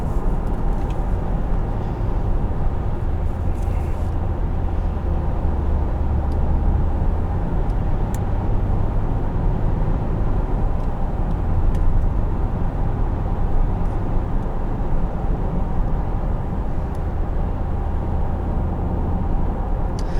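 A 2014 Infiniti QX60 accelerating hard at full throttle after a kickdown, a steady loud engine drone and road roar heard from inside the cabin, holding constant for about twenty seconds with no talking.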